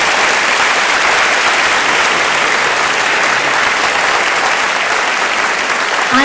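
An audience of gentlemen gives a sustained round of applause for Fran, a thick, even wash of many hands clapping that holds steady throughout without letup.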